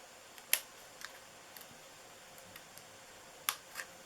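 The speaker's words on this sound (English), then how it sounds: "If you have some little tiny snips like this, you can just go around and cut it." Tiny snips cutting paper for a handmade Valentine's treat box: faint, sparse crisp clicks of the blades closing, a few seconds apart against quiet room tone.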